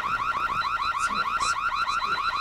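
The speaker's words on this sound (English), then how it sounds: "Joe, turn off the alarm" A car alarm blares loudly with a rapid, repeating warbling siren pattern, cycling continuously with no voices.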